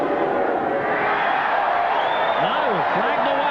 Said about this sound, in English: And the cheer from the parochial crowd.